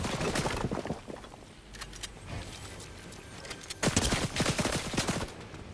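Rapid gunfire in Fortnite OG Season 7 striking and destroying a player's bush disguise, loud dense bursts at the start and again near the end, with quieter scattered shots between.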